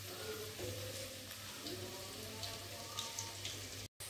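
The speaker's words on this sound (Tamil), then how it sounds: "நம்ம பிடிச்சி வச்ச உருண்டைகளை ஒன்றா போட்டு பொறிச்சு எடுத்துக்கலாம்" Hand-rolled vegetable balls deep-fry in hot oil, giving a soft, steady sizzle with light crackling pops at low volume that cuts out briefly just before the end.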